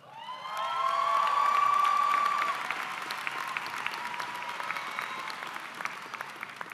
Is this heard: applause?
yes